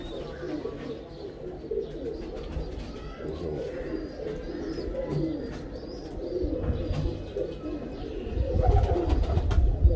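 A female Teddy pigeon coos in repeated soft, low throaty calls, close and alone, with some rustling and faint background noise that grows louder toward the end.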